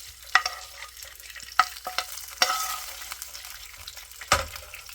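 Onions frying in a pan over kofta, with a soft steady sizzle broken by several sharp scrapes and clinks of a utensil against the pan at uneven intervals, close by and without talk.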